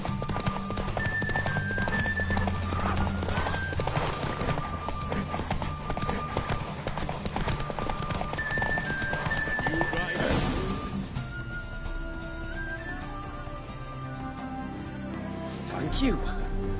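Roach, Geralt's horse in The Witcher 3, trotting with rhythmic hoof clops and a neigh amid game music, with a sharp crash near the middle and a voice speaking.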